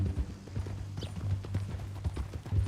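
Steady clip-clop of horse hooves in Red Dead Redemption 2, a continuous trotting rhythm over a low ambient rumble.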